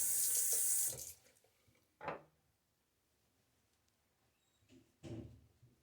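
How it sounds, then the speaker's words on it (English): Safety razor with an Astra Platinum blade rinsed under a running tap, a loud close gush of water for about a second, followed by a few soft clacks and splashes at the sink. "And rinse."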